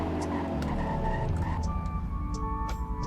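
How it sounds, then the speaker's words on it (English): Car braking hard in the video game Greenville, a close engine drone dropping in pitch as it slows, with tyre skid squeal toward the end. "Here's the braking test."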